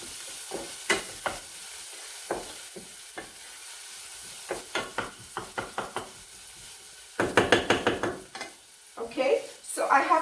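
Garlic and chopped onion fry in a pot, giving a steady low sizzle broken by repeated sharp scrapes and taps of stirring, which grow louder and busier in the final seconds.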